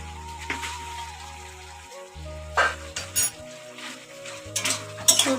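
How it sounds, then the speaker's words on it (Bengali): Mustard paste stirred into bottle gourd greens in a pan, with a soft steady sizzle and intermittent scraping and clinks of a utensil against the pan. "সর্ষে বাটা অ্যাড করে দেওয়ার পর ভালো করে এর মধ্যে মিশিয়ে কষে নেবো ভালো করে"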